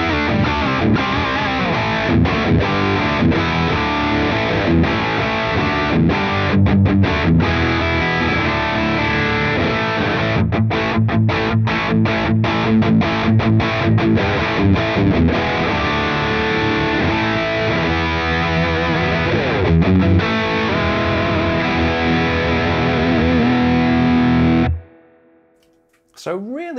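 Electric guitar played through the distortion channel of a Victory V4 preamp pedal, loud driven chords and riffs ringing out with staccato stops and sustained notes for most of the passage, then cutting off abruptly before a brief quiet tail.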